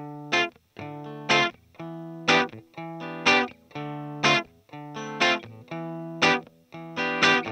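A staccato electric guitar plays short, choppy chords in a steady repeating rhythm, clipped and dry with little ambience.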